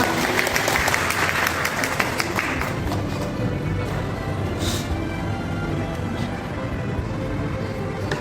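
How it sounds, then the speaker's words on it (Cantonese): Warm applause from a church congregation welcoming a new member forward for baptism, dense clapping at first that thins out over several seconds, with a low murmur of voices beneath. "我們掌聲熱烈的歡迎他"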